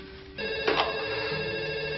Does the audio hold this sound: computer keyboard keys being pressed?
no